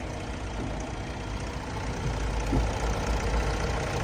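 A 2015 Renault Espace with a 1.6-litre turbodiesel and manual gearbox idles quietly and smoothly, a low, even engine rumble heard steadily from nearby with no talking.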